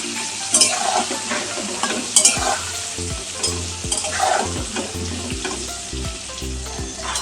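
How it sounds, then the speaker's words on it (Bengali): Pointed gourd (potol) pieces frying in a pan with salt and turmeric sizzle continuously, broken by repeated scraping stirs and a few sharp clinks of utensil on pan, with no talking. "একটু নুন আর হলুদ দিয়ে ভালো করে পটলগুলো আমি ভেজে নেব।"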